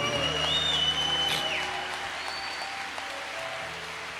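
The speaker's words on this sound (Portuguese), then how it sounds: "Aplauda a igreja." Church congregation applauding for newly presented deacons during a service; a diffuse wash of clapping sits under a sustained tone and faint voices, moderately loud at first and easing off slightly.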